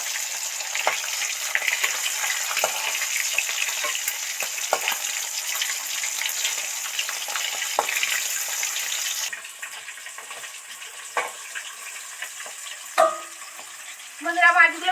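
Hilsa fish pieces frying in hot oil in a pan, a dense continuous sizzle for most of the stretch that then drops to a quieter crackle, with a few louder clatters near the end.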